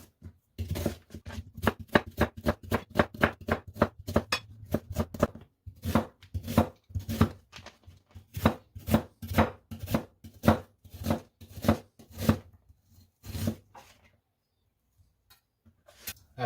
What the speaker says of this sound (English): we're gonna cut them like so. And cut them as small cubes